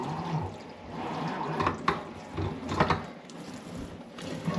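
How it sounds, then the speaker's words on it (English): Running water rinses a scuffed, wet-sanded emergency lightbar lens, a steady splashing wash with a few sharper spurts and drips, close and moderately loud with no talk. "we're going to rinse the whole bar off right now"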